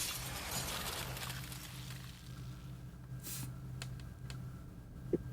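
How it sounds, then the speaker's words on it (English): Glass shatters in the visual novel Tsukihime: a brief, bright crash with scattered tinkling fragments, fairly quiet, set over a steady low droning music bed. "The sound of shattering glass echoes through my body."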